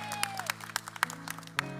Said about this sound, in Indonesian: Kita kasih tepuk tangan buat Tuhan kita